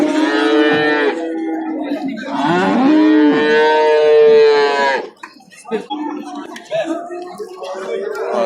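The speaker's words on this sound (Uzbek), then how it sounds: "Sigirimiz." A cow moos loudly up close at a cattle market in Qarshi, Uzbekistan, first a short low call and then a long drawn-out bellow, followed by quieter voices and background noise.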